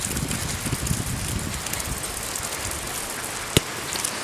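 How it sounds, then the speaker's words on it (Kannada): Heavy rain falls steadily with gusts of wind in a stormy evening, a constant dense hiss near the microphone with one sharp knock or tap partway through; no one speaks. "ನಮ್ಮ ಕೊಟ್ಟರ ಸೈಡೆಲ್ಲ ಆಚೆ ಜೋರು ಮಳೆ ಬರ್ತುಂಟು"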